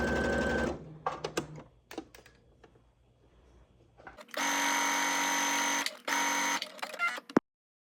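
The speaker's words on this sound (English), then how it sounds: "take this to your sewing machine and you're going to sew the pockets onto the skirt back" A sewing machine stitches pockets onto the back of a skirt: short stop-start bursts, then a quiet pause and a long steady run of rapid stitching that ends abruptly, with no talking.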